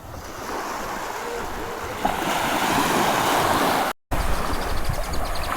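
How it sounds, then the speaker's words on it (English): Ocean surf rolls onto a beach in Colombia in a broad, steady wash of noise mixed with wind buffeting the microphone, loud and continuous with a short cut near the end. "more of a normal beach."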